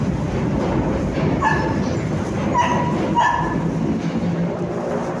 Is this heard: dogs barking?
yes